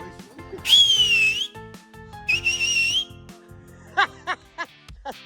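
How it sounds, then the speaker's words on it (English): A person outdoors on a hill walk whistles loudly in two long, wavering, high-pitched bursts, followed by short chirpy whistles and light laughter nearby. "Do your big whistle again."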